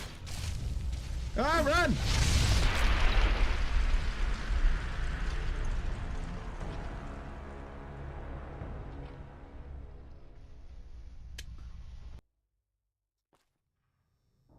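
In a video game, a big explosion booms out with a deep rumble that slowly decays over several seconds before cutting off abruptly, while a person shouts briefly near the start.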